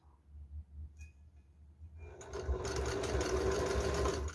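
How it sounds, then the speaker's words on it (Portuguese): A sewing machine stitches right at the tip of a fabric piece for a paper-doll style garland, starting with a quiet low hum and soft clicks, then a loud, steady whirring run that fills the rest. "eu vou descer aqui o pé calcador e vou costurar bem na pontinha"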